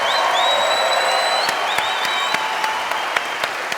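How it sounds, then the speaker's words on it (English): A big live audience bursts into loud, sustained applause for Richard Dawkins and Ricky Gervais arriving on stage, with a few whistles and whoops riding over the dense clapping. "please give a huge round of applause for two wonderful guests, two amazing people, Richard Dawkins,"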